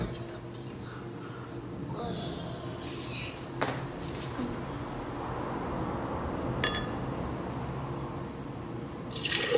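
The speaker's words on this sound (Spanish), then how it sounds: "ahora vamos a echar la lechita a nuestra licuadora" Milk pours steadily into a blender, a continuous splashing stream with soft speech murmuring over it and a few light clinks.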